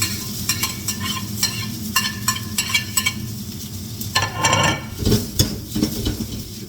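Prawn fried rice stir-fried in a smoking hot pan, a steady close sizzle broken by repeated scraping and clanking strokes of a utensil against the metal, with bursts of louder frying in the final seconds.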